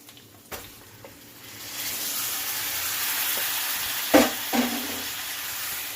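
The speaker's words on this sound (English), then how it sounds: "Now we are going to add the liver." Mutton liver hitting a hot pan, a broad steady sizzle swelling after a couple of seconds, with a few sharp clinks and stirring scrapes over the frying.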